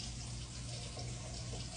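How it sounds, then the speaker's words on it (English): Water runs steadily from a tap into a sink at a care-home washbasin, a continuous close splashing rush with no voices. "So the first thing I'm gonna do is turn my water on."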